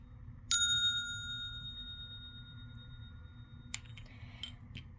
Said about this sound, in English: This is the mini singing bowl.